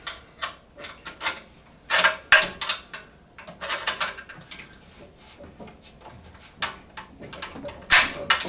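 A ratchet wrench tightens bolts while a petrol garden tiller is assembled, giving short bursts of rapid clicking with pauses between strokes, close and fairly loud.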